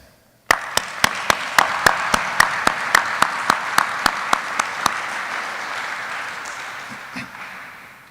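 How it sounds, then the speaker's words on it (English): Graduation ceremony audience at a U.S. Army Aviation training class bursting into applause after a quiet moment, with steady, rhythmic near claps over a broad crowd wash that gradually thins and fades. "Please join me in a round of applause for the families and friends"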